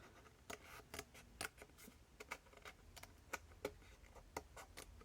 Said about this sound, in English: I just need to get my scissors in that gap.